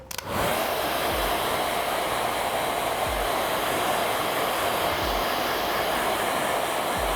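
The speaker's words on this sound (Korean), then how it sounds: "그냥 드라이기로 가볍게만 말려주세요" A hair dryer blows steadily and loudly while drying freshly permed short hair, its constant whooshing airflow running without a break throughout.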